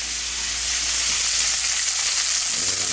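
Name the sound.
mahi mahi fillets simmering in a pan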